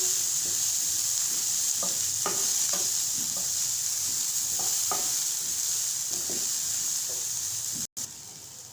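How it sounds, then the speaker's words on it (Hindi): Onion sautés in a heated pan under a steady, even sizzling hiss, with scattered clicks and scrapes of stirring up close and a brief cut near the end, with no voices. "अब हम इसमें डालेंगे प्याज, हमें इसको फ्राई नहीं करना, बस इसका कलर चेंज करना है।"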